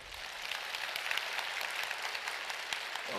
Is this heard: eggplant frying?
no